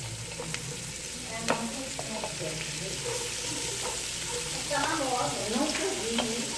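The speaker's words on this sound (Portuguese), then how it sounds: "Vamos lá, fritar a cebola." Thin strips of sliced onion fry in a pan with a steady, moderate sizzle, punctuated by a few stirring scrapes and light clicks, close up and without speech.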